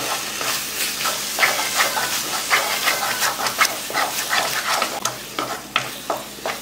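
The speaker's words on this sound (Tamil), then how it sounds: "நெய் சேர்த்துட்டு நல்லா கிண்டி விடுங்க" Burfi mixture cooked with ghee is stirred in a pan, giving rhythmic scraping strokes over a constant sizzling hiss, close and fairly loud, with no talking.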